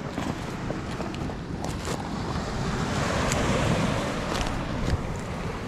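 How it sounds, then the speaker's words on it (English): Waves wash steadily onto an Okinawa beach under gusty wind buffeting the microphone, a broad continuous roar that swells slightly midway, close and loud with no voices. "We're on the beach."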